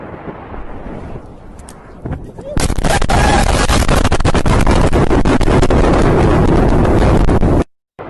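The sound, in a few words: explosion in a video of an attack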